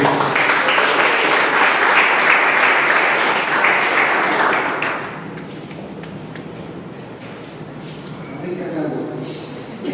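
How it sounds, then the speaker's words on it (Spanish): Church congregation applauding during a youth apostolic service, a loud dense burst of clapping for about five seconds that fades into scattered claps and murmuring voices. "Démosle un aplauso a Dios."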